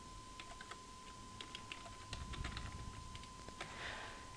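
Soft, scattered keystrokes on a computer keyboard enter a password, faint and somewhat distant over a steady background hum with a faint constant tone.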